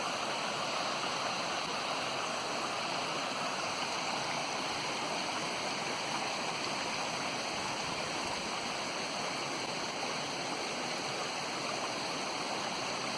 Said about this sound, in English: This culvert's doing fine. The first one going across Dave K's. Coming out the other side.